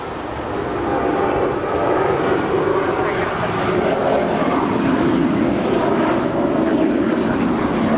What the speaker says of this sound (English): This is United Airlines flight 1535 departing to Houston. That's a Boeing 737-900 ER.